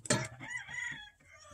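A broody hen on a farm lets out a sharp squawk, then a drawn-out, murmuring cluck that trails off, all fairly faint and close.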